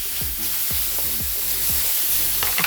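Mi goreng noodles are stirred in a hot pan under a steady close sizzle, with several regular utensil scrapes and a few light clinks near the end.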